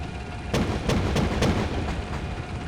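A video game battle rings with a rapid series of sharp gunshots and booms, around six distinct cracks spread over a couple of seconds. They sit over a steady background rumble.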